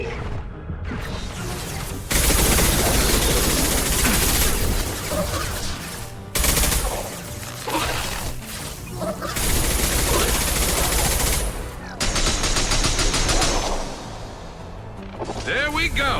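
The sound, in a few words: heavy gunfire in the video game Mass Effect 2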